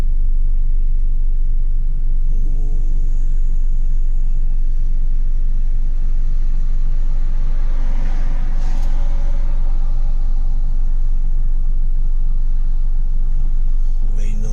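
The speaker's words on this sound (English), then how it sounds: "Stop and go traffic." Steady low rumble of road and tire noise inside a car on Continental tires, rolling through stop-and-go traffic; a continuous, even drone with no distinct events and no clear voices.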